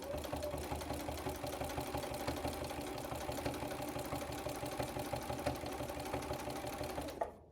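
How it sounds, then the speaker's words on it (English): A sewing machine runs fast and steady, stitching binding onto a quilt with a rapid, even mechanical chatter close by, then stops abruptly at the end. "So I'm going to keep on sewing until I get to right about here, around 8 inches"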